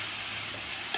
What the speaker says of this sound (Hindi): मिक्स करेंगे इसको भी अच्छे तरीके से।